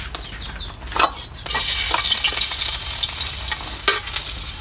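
Onion and garlic dropped into a hot pan, a few scrapes and taps, then a sudden loud burst of sizzling that continues steadily with occasional utensil knocks, close up and without speech.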